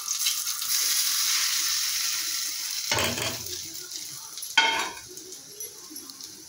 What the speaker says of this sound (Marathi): ही फोडणी यामध्ये घालायचा